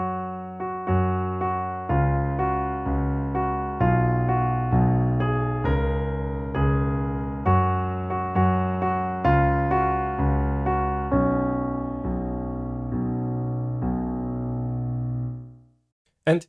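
Solo piano plays a slow sequence of doubled notes in octaves, each struck chord ringing and decaying before the next, ending on a long sustained tone.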